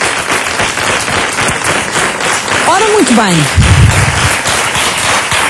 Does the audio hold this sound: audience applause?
yes